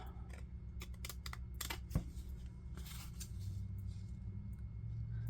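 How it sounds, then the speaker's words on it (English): Scissors snipping along the edge of a paper strip for a decorative page border, a quick series of crisp cuts close to the mic over a steady low background hum. "Let's cut this off."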